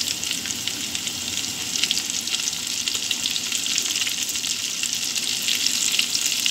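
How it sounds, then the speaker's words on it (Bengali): Chopped garlic frying in hot mustard oil, a steady loud hiss and crackle of sizzling that continues evenly throughout without talk. "প্রথমে আমি রসুন কুচিটা দিয়ে দেবো, রসুন কুচিটা দিয়ে দেবো, একটু ভাজি করবো"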